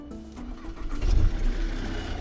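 A Ford Mondeo Mk3 car engine cranks and catches under repair, with a starter whir giving way to a lumpy surge of idling engine noise, close and fairly loud, with no talking.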